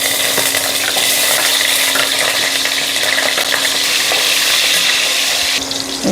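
Vegetables such as carrot, potato, cauliflower, tomato, green chilli and ginger frying in salted oil for a daliya dish, a loud, close, continuous sizzle with light stirring that eases near the end.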